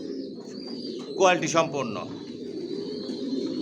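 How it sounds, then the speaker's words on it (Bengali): Adult racer pigeons with leg tags, kept in a loft, cooing softly in low, rolling calls nearby while someone talks over them. "ভিউয়ার্স দেখতে পাচ্ছেন এখানে সব অ্যাডাল কবুতর"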